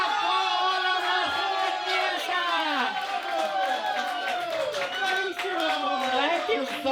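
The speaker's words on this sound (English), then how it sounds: "Clap for him! Clap for all of us!" A live show audience claps and cheers as a performer urges them on. Lively clapping and whoops build under prominent melodic music and voices, loud and close throughout.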